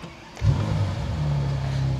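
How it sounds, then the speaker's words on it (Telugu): A 2022 Bentley Continental GT engine starts up nearby: a sharp crank catches within half a second, then settles into a strong, steady low idle rumble. "ఒక్కసారి ఇప్పుడు మనం కార్ను ఆన్ చేద్దామండి"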